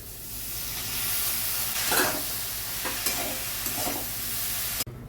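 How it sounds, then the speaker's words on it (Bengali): Broken wheat dalia frying with turmeric and Kashmiri chili, giving a soft steady sizzle and hiss with a few stirring scrapes, then an abrupt cut near the end. No voices. "এবার ডালিয়াটা দিয়ে সবগুলো একসাথে ভেজে নেব।"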